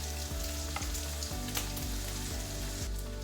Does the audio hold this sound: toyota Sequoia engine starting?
no